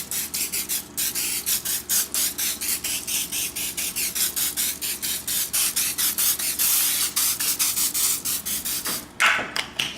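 Cooking spray hissing in rapid short bursts onto salmon before smoking, a steady close-up pulsing spray that keeps going for several seconds with one louder burst near the end.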